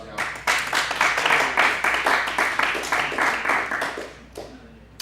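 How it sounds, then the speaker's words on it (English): An audience at an Ableton Live tutorial evening applauds to welcome the instructor, a dense burst of many hands clapping that swells, holds for several seconds, then thins to a few scattered claps. "Give a round of applause, y'all."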